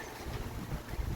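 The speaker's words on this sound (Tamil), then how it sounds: "புயல் காற்று சத்தம் கேட்குது" Strong cyclone wind from Cyclone Fengal roars in a dense, unbroken rush, loud and close with gusty swells and no voices.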